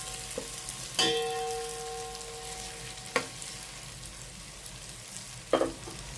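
Masala for paneer biryani sizzles steadily in a hot pan, broken by three sharp scraping clatters of a spoon stirring against the metal, close and fairly loud, with no voices.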